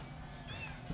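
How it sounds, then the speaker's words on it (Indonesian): A cat gives a single short meow midway, faint against background room noise and a low murmur. "Kucing siapa?"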